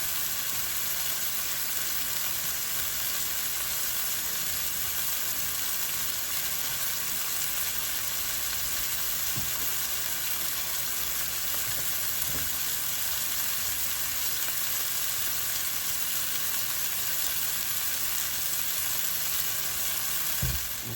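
Cod fillets fry in extra virgin olive oil in a pan, giving a steady, dense sizzle that runs unbroken and fairly close throughout, with no voices over it.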